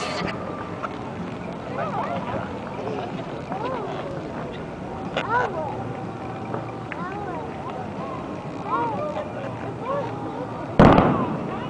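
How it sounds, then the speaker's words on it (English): Fireworks crackle and pop at Disneyland through a steady noisy background while people talk over them, ending with a sharper, louder burst near the end. "Those are fireworks!"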